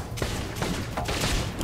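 Gunfire from the Gyuuma Bull Devil hero in the video game Extraordinary Ones: a quick burst of several loud, close shots in rapid succession.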